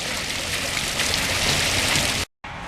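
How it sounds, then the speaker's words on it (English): Steady rain falling on surfaces outdoors, a dense close hiss that runs unbroken, cuts out briefly near the end, then returns. "Well, they said it was going to be on and off rain all day,"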